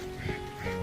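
A couple of nasal duck quacks a short way off in a forest near water in Finspång, Sweden, brief and moderately loud over faint background noise.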